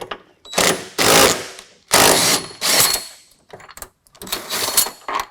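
Center bolt with a large washer being removed from a Jeep JL rear body mount, heard as close, loud bursts of rapid ratcheting or impact-tool clatter in several separate runs with short pauses between them.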